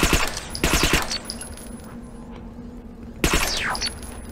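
Automatic gunfire in the game Interstellar Marines, with two short, loud bursts of rapid shots separated by a quieter stretch of mechanical background noise.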